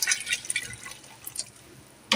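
About seven cups of water are poured into rice and chickpeas for chana pulao, making close splashing and trickling in uneven bursts that taper off, then a final splash.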